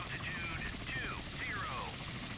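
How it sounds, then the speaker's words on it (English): Helicopters spin up aboard a ship in the naval strategy game Sea Power, a faint turbine whine rising and sweeping in pitch over a steady background hum. "Next helicopters are spinning up."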